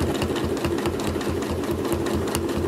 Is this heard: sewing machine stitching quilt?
yes